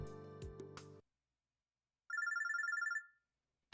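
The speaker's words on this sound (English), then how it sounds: "The phone's ringing." A telephone rings in a visual novel game, a rapid electronic trill lasting about a second, heard alone after a burst of other game sounds and a short silence.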